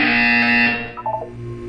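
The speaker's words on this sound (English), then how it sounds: "You will hear a buzzer." A loud, harsh electronic buzzer in Portal 2 blares for under a second, then cuts off into a few short electronic tones.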